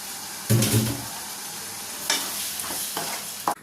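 Chicken frying in a pan with Kashmiri chili powder, a loud burst of sizzling and stirring near the start, then quieter scraping stirs and a final clatter, no talking.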